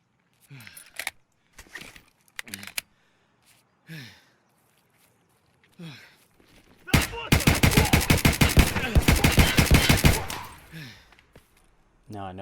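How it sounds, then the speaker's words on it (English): Gunfire in the game Escape from Tarkov: a few sharp, scattered cracks and shuffling footsteps, then a loud, close automatic burst of rapid shots lasting about three seconds, with no talk. "So I just got shot from my right."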